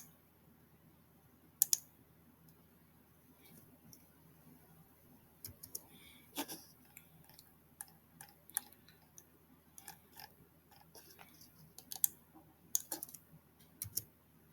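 Scattered, faint key clicks from a computer keyboard with one failing key, tapped irregularly in short bursts over low background hiss with no talking.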